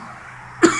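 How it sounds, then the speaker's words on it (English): A single sharp cough bursts out near the end, loud and close, following a stretch of quiet room tone with no speech. "that cough, really has somebody take a look at that."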